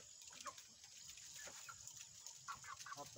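Short clucks from a chicken come in scattered bursts over steady background noise, moderately close, with no one talking.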